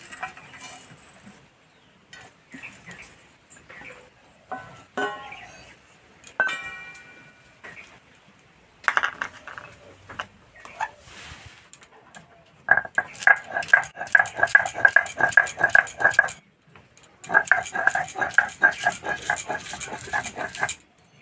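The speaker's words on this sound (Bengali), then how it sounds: "সব একসঙ্গে বেটে নেব।" Garlic, green chilli, ginger, peppercorns, whole coriander, cumin and mustard seeds are ground together, making scraping, clinking strokes: sparse at first, then dense, rhythmic stretches of grinding close by.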